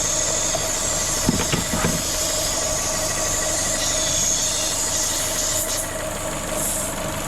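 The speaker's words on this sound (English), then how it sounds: "It's not difficult to find a vacuum leak really." A Vauxhall Corsa VXR engine idles steadily nearby with a vacuum leak from a broken cam cover: a constant rumble and an airy hiss over it, plus a few brief knocks early on.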